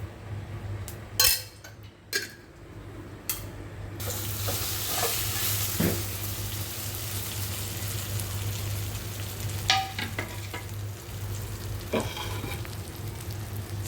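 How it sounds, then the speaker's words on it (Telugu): A palm jaggery roti made with Bellary jaggery fries in oil on a pan as it is turned to cook the other side. A few metallic clinks and taps open it, and then a steady close sizzle continues with occasional scrapes. "ఇంకొక రెండు స్పూన్లు ఆయిల్ వేసి ఇటువైపును కూడా కాల్చుకుందామండి"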